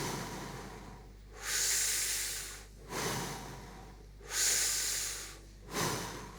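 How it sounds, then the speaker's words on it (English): Four deep, slow breaths with airy inhales and exhales through the mouth and nose, evenly spaced and close up in a quiet room. "we're going to take 3 breaths through the mouth and 3 through the nose."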